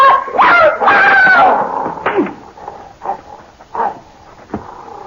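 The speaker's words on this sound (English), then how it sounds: "Good dog. That's a fine dog." A dog gives a few sharp barks and yips up close, followed by softer whimpers and snuffling sounds.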